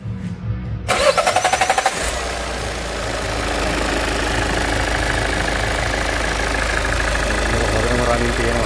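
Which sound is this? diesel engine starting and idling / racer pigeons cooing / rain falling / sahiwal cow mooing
diesel engine starting and idling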